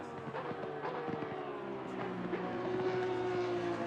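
A GT3 race car's flat-six engine howls around Monza in a sim racing video game, a steady, fairly faint engine drone whose pitch climbs and shifts as it runs, with no voices over it.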